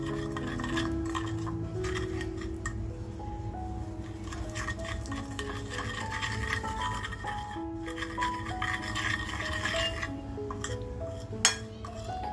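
A spoon stirs and clinks against a bowl as a homemade masala is mixed for tandoori mutton chops, a steady, quiet scraping with faint metallic chinks and soft music underneath.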